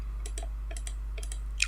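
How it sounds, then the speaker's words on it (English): Several separate computer keyboard key presses click at a steady, moderate level over a constant low electrical hum, with a sharper final click at the end, while someone works in Animate CC 2017. "hitting F6 on the keyboard"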